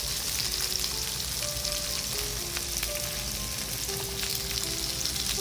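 Japanese long leek sizzles in a Teflon frying pan over low heat, a steady, close crackle and hiss that never lets up, with no voices over it.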